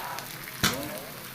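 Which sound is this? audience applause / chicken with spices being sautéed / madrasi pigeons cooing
chicken with spices being sautéed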